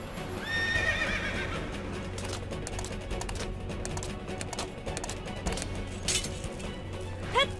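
A horse in the Final Fantasy XIII video game whinnies clearly near the start, then hooves clatter in a steady galloping rhythm amid game sounds and effects, with another brief neigh at the end.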